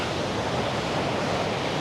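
Athirappilly waterfall in full flow, a dense, continuous rushing roar of falling water, steady and loud with no other sounds.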